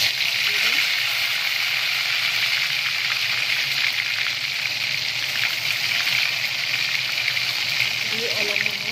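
Onion, garlic and ginger paste fries in hot oil in a kadai, giving a continuous bright sizzle throughout while a voice talks over it.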